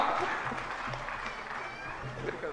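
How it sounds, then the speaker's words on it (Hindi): An audience at a live religious discourse applauds in a steady, moderately faint patter of clapping, with some voices in the room over it. "आप सबकी जोरदार तालियों के साथ में"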